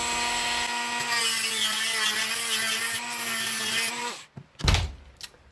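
A rotary cutting tool scores slots into security screws on a Shimano Ultegra RD R8050 rear derailleur: a steady high-pitched whine for about four seconds, then abrupt grinding bursts and scrapes as it stops.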